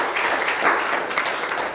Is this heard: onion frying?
no